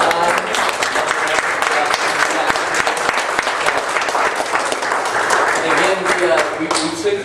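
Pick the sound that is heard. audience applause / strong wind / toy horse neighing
audience applause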